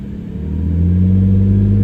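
A turbocharged BMW E46 engine at operating temperature revs up close and loud to 2,000-3,000 rpm, its deep rumble rising in pitch and then holding at a steady higher speed.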